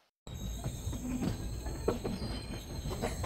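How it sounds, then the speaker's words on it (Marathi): Train pulling into Ratnagiri station during the monsoon, with a steady low rumble, faint wheel squeal and a scattering of clacks at moderate distance, starting abruptly after a brief silence. "गाडी आता रत्नागिरी स्टेशनला पोहोचली आहे।"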